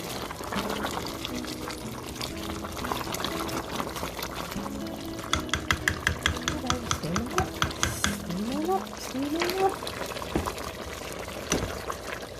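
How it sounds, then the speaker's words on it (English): Soup being stirred in a Ninja Foodi pot before pressure cooking, a spoon scraping and swishing through liquid in steady strokes with some clinks against the pot, over background music. "Now I'm going to give it one last good stir before I put the pressure cook top on it."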